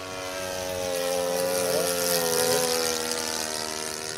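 An RC Hawker Hurricane model plane's engine drones steadily with a chugging, harmonic-rich tone, swelling slightly louder mid-pass as the plane flies nearby, with no talk over it.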